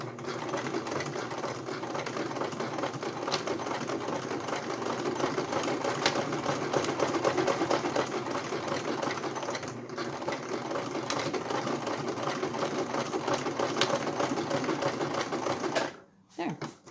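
A sewing machine stitches a bake-even cake strip with its presser foot down, running in a steady, close mechanical whir for about sixteen seconds before stopping abruptly.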